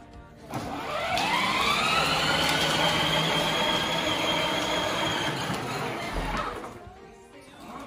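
Electric ride-on toy ATV quad driving at full throttle, its motor whining up to a high, steady pitch for several seconds and then cutting off, loud and close.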